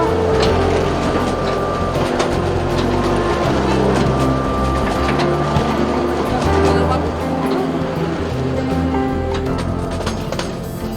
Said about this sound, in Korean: 올라오는 열차가 다가오자 내려가는 열차가 멈춰 기다렸다.